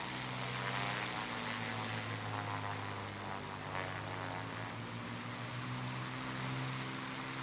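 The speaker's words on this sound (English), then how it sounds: "I hear another propeller engine." Steady propeller aircraft engine drone in the War Thunder flight game, flying a Spitfire Mk. IXc, a continuous low humming roar with a rushing airflow layer, fairly quiet and unchanging.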